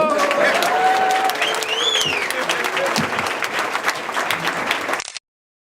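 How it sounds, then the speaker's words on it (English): A wedding crowd claps in sustained applause for about five seconds, dense and steady, with a few whoops and whistles rising above it before it cuts off. "Give her a round of applause."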